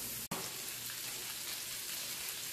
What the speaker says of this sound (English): So these are bubbling really, really nicely.